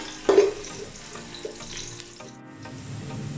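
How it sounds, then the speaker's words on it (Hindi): Finely chopped onion fries in hot oil for a keema pulao, a soft crackling sizzle with a brief louder burst near the start and quieter stirring afterward. "इसे हम सुर्ख कर लेंगे प्याज को लाइट ब्राउन।"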